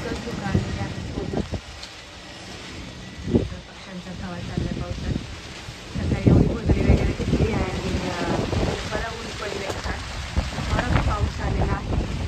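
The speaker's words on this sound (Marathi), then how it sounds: "इकडं पूर्ण पाऊस सुरू झाला" Heavy rain pours down in a sudden downpour after sunshine, a steady wash of drops with gusts buffeting the microphone, while people talk over it.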